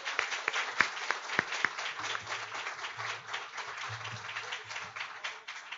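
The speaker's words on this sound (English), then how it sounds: "Give her a round of applause." An audience at a Hispanic Heritage Month celebration gives a woman a round of applause, moderately quiet, uneven clapping with a few distinct nearby claps standing out and a low murmur beneath.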